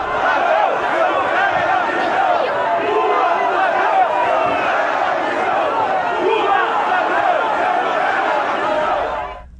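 A crowd jeers and boos the Brazilian president as he arrives at Pelé's wake in coastal São Paulo state, many voices forming a loud, continuous roar of shouting that holds steady before cutting off abruptly.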